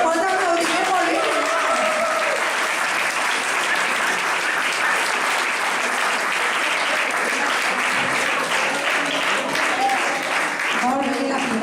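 An audience at a training workshop breaks into loud, sustained applause, dense, even clapping that fills the room for over eleven seconds without letting up.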